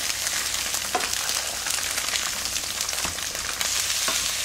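Tofu pan-fries in perilla oil in a skillet, a loud, steady close-up sizzle and crackle with occasional louder spits.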